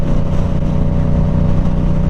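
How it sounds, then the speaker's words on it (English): A Yamaha R7 motorcycle engine runs steadily close by, giving a deep, even exhaust drone with a throbbing low pulse and no voices over it. "I've really come to love the exhaust note on this thing"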